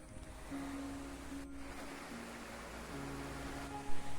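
Anachadikuthu waterfall in Idukki gives a steady, broad rush of falling water that holds at an even level throughout, with a faint low hum beneath and a brief bump near the end.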